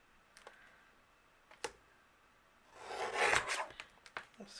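A paper trimmer slices through cardstock for a handmade card: a few light clicks first, then one short rasping cut up close, followed by a couple of soft taps.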